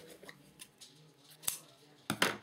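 Scissors trimming the end of a tie: a few quiet snips spaced apart, with a sharper cut near the middle and a double snip at the end, close and otherwise quiet.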